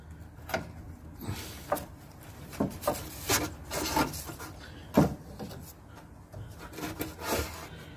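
A sway bar bushing on a Nissan Sentra being slid into place, making continuous close scraping and rubbing sounds with several sharper knocks and squeaks throughout, with no talking.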